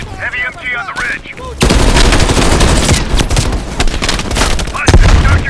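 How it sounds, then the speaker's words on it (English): Heavy machine gun fire in the video game Call of Duty: Black Ops Cold War erupts into a loud, dense, continuous burst of rapid shots and booms, close and dominant, with voices faintly heard before it starts. "Heavy MG on the ridge."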